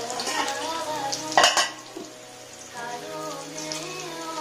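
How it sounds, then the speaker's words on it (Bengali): Marinated mutton pieces tipped into a pot of frying onions, a sharp burst of loud sizzling and clatter followed by a steady hiss with stirring and occasional pan knocks. "আমাদের পেঁয়াজটা অলমোস্ট ভাজা হয়ে গেছে দেন এখন আমরা অ্যাকচুয়ালি এখানে মাংসটা অ্যাড করে দেবো"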